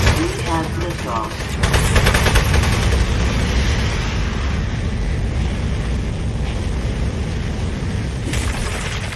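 Gunfire in the video game Aperture Desk Job: rapid bursts of automatic shots over a constant rumbling bed, loudest early on, with speech mixed in.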